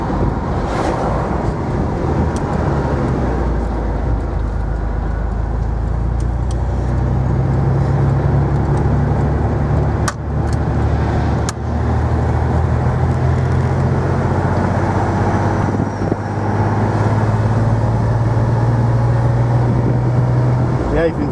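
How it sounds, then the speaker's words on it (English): A 1985 Porsche 911 Carrera Cabriolet engine pulls hard through the gears on the road, its loud steady drone rising in pitch within each gear, with wind noise across the microphone and someone talking over it. "Pulling strong through the gears in 4th gear now."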